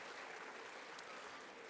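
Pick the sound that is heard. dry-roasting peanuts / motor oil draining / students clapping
students clapping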